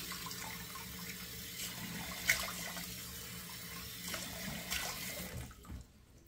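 Cold water cupped in the palms is splashed onto the face over a running sink during a wet shave, giving soft, faint splashes and trickling over a steady low water rush.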